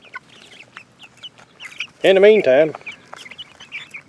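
A chicken clucks loudly in a short burst midway, with scattered quieter farmyard sounds and a brief spoken phrase around it.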